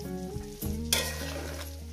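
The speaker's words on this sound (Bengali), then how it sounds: "তো বন্ধুরা দেখছেন আমি কীভাবে লাল লাল করে ভেজে নিচ্ছি" Radish pieces frying in oil until reddish hiss in a continuous close sizzle, with a brief louder burst of crackle partway through and no talking.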